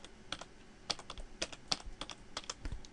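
Someone types Roblox Lua code on a computer keyboard. Irregular, close, quiet keystrokes come in small bursts, about a dozen clicks with short gaps between them.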